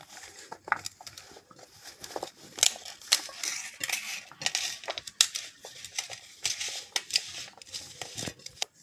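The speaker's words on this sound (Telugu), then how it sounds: "నేను కార్న్ పౌడర్ తీసుకొని అంతా బాగా మిక్స్ చేసుకోవాలి" Potato fries being tossed with corn flour in a bowl for French fries make close, crisp rustling and scraping bursts in an uneven rhythm, with no talking.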